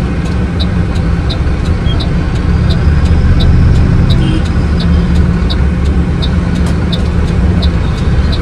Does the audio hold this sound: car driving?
yes